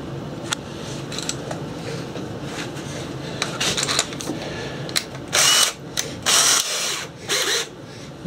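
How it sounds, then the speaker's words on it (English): A power drill whirs in several short bursts, spinning a nut off a homemade mandrel, stopping and starting in quick succession, loud and close with a mechanical rattle between runs. "you just put it in the drill"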